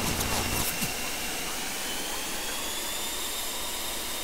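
Steady, loud aircraft engine roar and whine from Garry's Mod play, an unbroken broadband drone that stays level throughout, opening with a brief rougher burst in the first half-second.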